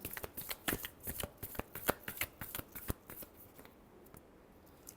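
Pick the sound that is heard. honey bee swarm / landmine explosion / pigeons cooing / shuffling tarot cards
shuffling tarot cards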